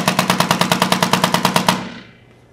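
A Tippmann A5 paintball marker with a tuned response trigger fires a rapid burst of about fifteen evenly spaced sharp pops, loud and close, and the burst stops abruptly into a short fading tail.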